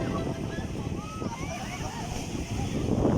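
Sea waves wash and splash along Bagbag beach in Sual, Pangasinan, a steady near surge of surf with wind buffeting the microphone and faint voices in the background.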